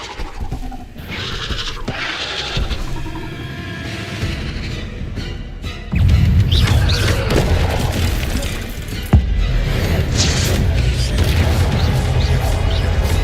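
Incendio fire spell cast in Hogwarts Legacy combat, a loud burst of booming, crashing impacts over a dense game soundscape, swelling sharply midway with another hard hit soon after.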